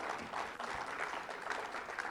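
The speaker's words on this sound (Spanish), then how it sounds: "Dele un fuerte aplauso al Señor aunque no entienda" A church congregation gives a strong round of applause for the Lord, steady and dense clapping filling the hall with slight swells and no voices over it.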